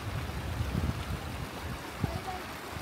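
Flowing stream water runs in a low, steady gurgle, faint and somewhat distant, with a person talking over it.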